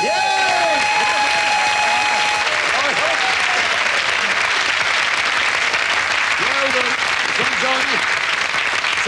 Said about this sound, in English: please, stay the applause till you hear the prize